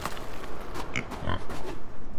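Pigs on a farm in the video game Farm Together grunt and oink in brief repeated calls over a steady busy game ambience, moderately close.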